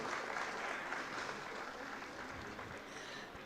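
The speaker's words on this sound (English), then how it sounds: "The auditorium is full, but the claps are not loud." Faint, thin applause from a full school auditorium during a Founders Day celebration, soft and sustained, ending with a sharp bump at the very end.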